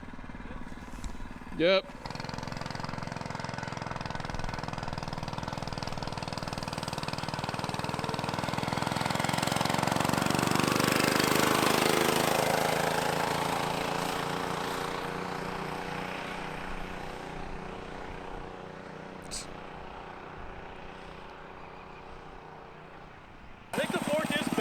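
A cheap mini bike engine revs through a full-throttle run from a standstill to top speed, its drone swelling and rising in pitch before fading, with brief talk at the start and end.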